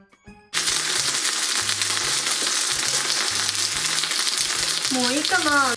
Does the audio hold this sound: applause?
no